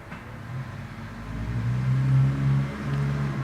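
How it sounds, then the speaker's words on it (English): A mail truck drives past outdoors, its mid-pitched engine rumbling steadily closer and swelling in loudness before holding near, with no one talking. "gotta wait for the mail truck to go by"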